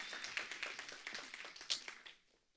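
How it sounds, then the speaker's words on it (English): Brief, sparse clapping from a small church audience applauding game winners, quick and fairly faint, tapering off to near silence by the end. "guess what you get? An applause."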